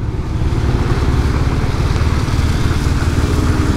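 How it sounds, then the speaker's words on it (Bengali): A sports motorcycle rides on a rainy day, its engine a steady loud drone close by, blended with wind and road rush. "বৃষ্টির দিনে বাইক চালানোটা একটু টাফ, বিশেষ করে স্পোর্টস বাইক"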